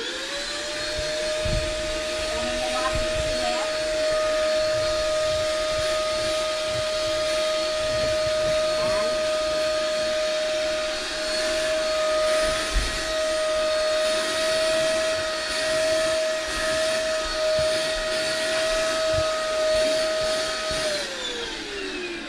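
An old household vacuum cleaner runs steadily for about twenty seconds, a constant close whine and airy rush with faint knocks of the nozzle against surfaces, then winds down at the end.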